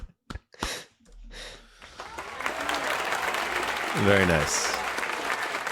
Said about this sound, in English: Give yourself a round of applause on that one